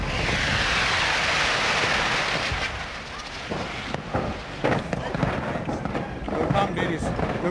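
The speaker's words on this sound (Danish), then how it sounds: "En container er eksploderet." Explosion of a container at a factory during a disaster: a loud, sustained roaring burst fills the first few seconds, then gives way to crackling, popping bursts and rumble that continue to the end.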